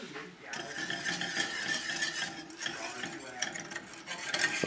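Turkey gravy simmering in a pan, a steady bubbling sizzle with soft clinks of utensils and a spoon stirring against the pan, close and fairly quiet throughout.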